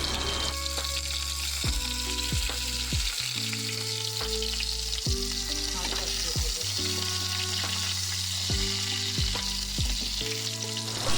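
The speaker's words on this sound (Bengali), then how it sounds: "ওই গরম তেলে আলু দিয়ে দিব।" Potatoes fry in hot oil, a steady loud sizzle running throughout, with tonal clatter and scraping from utensils over the bubbling.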